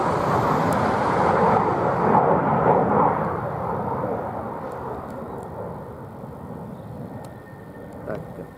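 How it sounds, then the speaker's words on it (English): An F-15 fighter jet passes near Lakenheath airbase with a broad, rumbling roar that is loudest early and slowly fades as it moves off, while faint outdoor background noise continues. "We don't see many F-15s."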